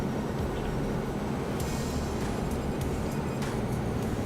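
Eclipse 550 very light jet in the X-Plane 11 flight simulator, heard from inside the cockpit on approach: a loud, steady broadband engine and airflow roar with no break and no talking.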